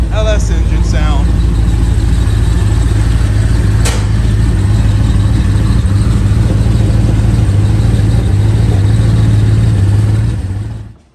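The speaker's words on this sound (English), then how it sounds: "You can never get tired of a LS engine sound." An LS V8 engine rumbling and revving nearby, a deep steady growl with a brief click partway through, cutting off at the end.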